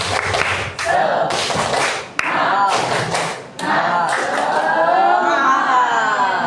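A classroom of standing students performs the rhythmic 'tepuk semangat' clapping chant, bursts of group claps in a patterned beat alternating with loud chanted voices, close and lively.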